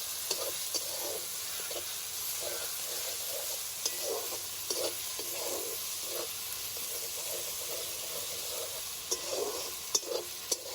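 Fish head, cabbage and ground spices with slit chillies sauté in a wok, a faint steady hiss and sizzle with soft intermittent stirring scrapes and a few light clicks, quiet and close.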